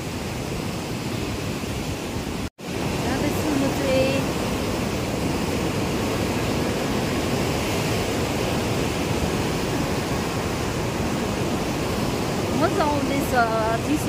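River water rushing beneath the long Farakka bridge, heading toward Kolkata, a steady broadband roar of flowing water mixed with wind, constant throughout with a brief cut, faint voices and small sounds in the background.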